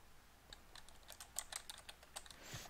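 Keystrokes on a computer keyboard while entering a general journal transaction, a quiet, irregular run of light clicks in a steady, close rhythm, with no voices.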